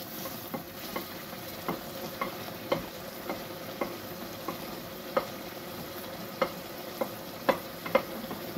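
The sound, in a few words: tomatoes added and stirred, sizzling in lamb karahi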